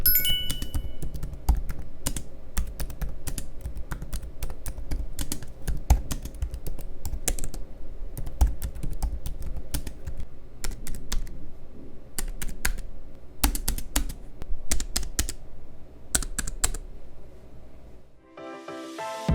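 Rapid, continuous typing on an ASUS Zenbook S 16 laptop keyboard up close, soft clicky keystrokes in quick irregular bursts, stopping just before the end.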